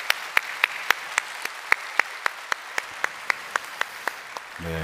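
A church congregation claps in thanks during a Sunday worship service, a steady, evenly spaced rhythm of sharp claps, fairly faint and distant, with no talk over it.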